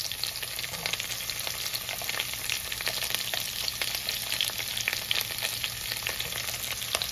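Chopped onion sizzles and fries in oil in a pan for an egg fry, a steady crackling hiss with occasional stirring, close and continuous without talk.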